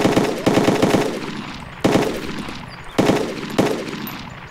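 Gunfire in the DayZ video game: a rapid burst of several loud shots followed by three single heavy shots spaced about a second apart, each with a ringing decay.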